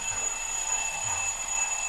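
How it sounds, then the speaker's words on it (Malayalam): A steady alarm clock ringing without pause, set beside a sleeping dog named Bruno, with a continuous bright electronic tone that stays level and fairly quiet throughout. "ബ്രൂണോടെ അലാറം അടിച്ചാ"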